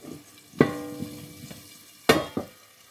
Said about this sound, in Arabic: وغنخليهم يتقلاو على عافية مهيلة ان شاء الله